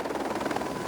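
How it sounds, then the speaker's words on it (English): Helicopter rotor and engine noise from inside or beside the aircraft during a mountain transfer near Sheldon Chalet, a steady broadband roar without clear blade thumps. "Soon enough, we transfer to a helicopter"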